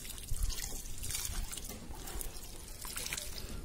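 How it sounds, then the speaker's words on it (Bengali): Water poured over newly planted ginger plants in a garden bed, a close, steady trickling and splashing stream with uneven surges, heard alone without talk. "এবার জল দেব"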